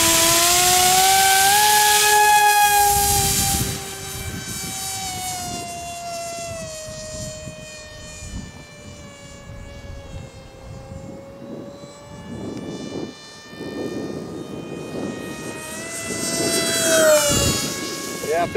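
FF-Demon Concept 2 RC plane on a test flight, its electric motor whining in a steady rising and falling tone that is loud at first and then eases as the plane passes, with brief speech underneath.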